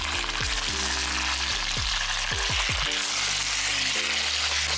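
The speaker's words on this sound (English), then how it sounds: "Stir fry the meat for 5 minutes till the meat changes its color" Boneless mutton stir-fried in a pan, a steady close sizzle with repeated scraping strokes of a spatula stirring the meat, no voices.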